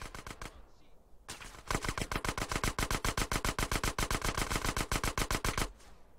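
Rapid automatic gunfire in the video game GTA: San Andreas, a few spaced shots and then a long sustained burst of sharp, evenly paced reports, close and loud, ending abruptly.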